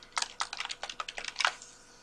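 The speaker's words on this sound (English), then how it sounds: "You're going to go over here and type out your site name." Quick keystrokes on a computer keyboard, a dozen or so light, close clicks in an uneven burst, then quiet, with no voices.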